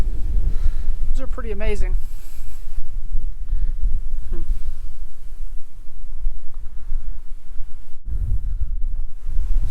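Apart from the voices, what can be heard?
strong wind blowing at a campsite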